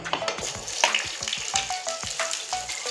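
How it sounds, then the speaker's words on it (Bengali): Chopped onion frying in oil with cumin crackles loudly and continuously nearby, with irregular spatters and spoon knocks against the pan. "পেঁয়াজটা ভেজে নেব।"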